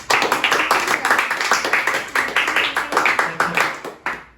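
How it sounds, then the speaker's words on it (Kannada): Children clap together in a steady, quick rhythm of sharp hand claps at a home cool drink challenge game, loud and close, with faint voices mixed in near the end. "ಬರ್ಲಿ ಚಪ್ಪಾಳೆ"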